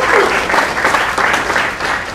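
A crowd at a cannabis industry gathering breaks into brief, even applause, a dense wash of clapping that holds steady for a couple of seconds.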